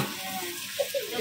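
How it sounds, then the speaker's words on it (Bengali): Meat cooks in a frying pan in a home kitchen, giving a soft, low sizzle with a couple of brief crackling pops toward the end. "ভাজা হয়ে গেছে, এখন মাংস হচ্ছে"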